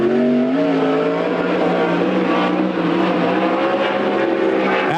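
Sprint cars racing around Coos Bay Speedway during a Western Sprint Tour event, a loud continuous engine roar with rising and falling pitch as cars pass through the turns.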